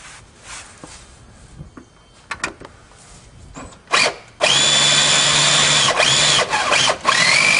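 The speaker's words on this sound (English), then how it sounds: "We are going to drill our 1/8 inch hole" A power drill bores a 1/8 inch hole while installing CARR Hoop II steps on a vehicle, starting with a few short bursts and then running steadily loud and close for several seconds, pitch dipping as it bites.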